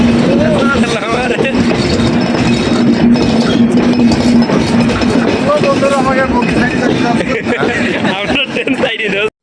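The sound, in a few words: train arriving at station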